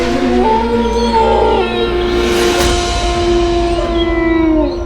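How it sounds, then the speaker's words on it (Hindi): A dog howls in long, wavering, mournful tones that rise and fall over several seconds, fairly loud and close, with a low background hum and no talking. "ये सुना, ये कुत्ते का रोना"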